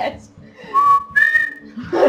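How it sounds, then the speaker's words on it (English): A person whistles a short movie tune in two sustained, rising pitched notes, close and clear, with brief breathy sounds at either end. "Wait, what was that whistle in the movie?"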